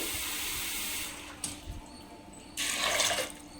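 Ingredients are washed in water with a little rock salt while cooking at home: splashing and running water, then a short pause with a few small clunks, then a louder burst of pouring water.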